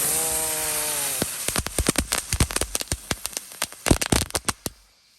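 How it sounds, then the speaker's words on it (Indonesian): Four lotus firecrackers (mercon teratai) lit together at night: a brief tonal whistling hiss, then a rapid, irregular string of sharp, close cracking pops that thins out and stops. "selanjutnya kita nyalakan mercon teratai. Ini ada 4 sekaligus guys"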